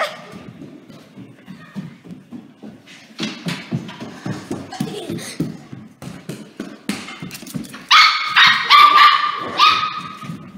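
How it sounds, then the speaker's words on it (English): A dog yips and barks repeatedly while chasing someone around, the sounds coming in quick uneven bursts close by and growing louder and more excited toward the end, with panting and scuffling in between. "you guys just saw my dog Lola chasing me around"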